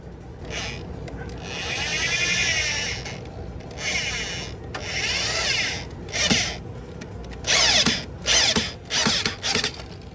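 A power drill drives screws into a handmade rock background for a large outdoor enclosure, giving repeated whirring bursts that start and stop, with several short close grinding pulses near the end and no talking.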